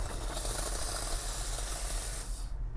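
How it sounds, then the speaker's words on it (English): The steam wand of an espresso machine used for steaming milk gives a steady, close hiss that runs for a few seconds and then cuts off abruptly. "This one we use to steam our milk. So this is called a steam wad."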